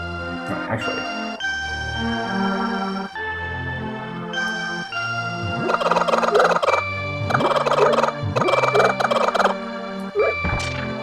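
Repeated squawking and clucking chicken calls from Zelda: A Link to the Past, in bursts over looping chiptune-style game music with steady melodic tones.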